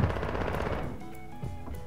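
Rapid automatic gunfire from a Warzone Mobile match, a dense burst loudest at the start that tapers off, followed by scattered fainter shots.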